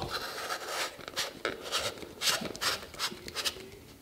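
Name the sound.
camera filter being screwed onto its mount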